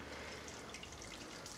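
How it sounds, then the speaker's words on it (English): Water pours steadily over a bag of grain during home beer brewing, a continuous splashing, trickling wash heard close and fairly quiet, with no talk. "Is that how you pour water over a bag?"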